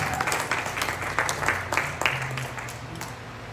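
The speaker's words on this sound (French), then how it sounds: "Sous vos service. applaudissements. Under your clap." Congregation applause during a church service, mixed with low organ or keyboard hum and some background voices, moderately loud and steady for a few seconds.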